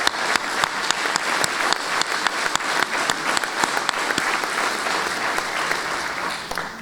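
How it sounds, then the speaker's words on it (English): An audience at a Jewish sports hall of fame ceremony claps steadily, a full room of applause with a few sharp individual claps standing out, sustained at moderate loudness for the whole stretch. "I've got everybody clapping"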